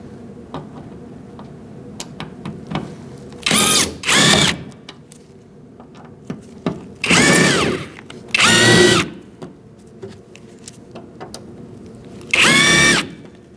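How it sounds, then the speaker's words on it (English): Phillips screws come out of a lowered 2004-2012 Chevrolet Colorado tailgate, with four short, close whirring bursts from a driver and faint ticks and clicks of handling between them. "Using a Phillips screwdriver, you're going to take off these 4 screws after you put your tailgate down."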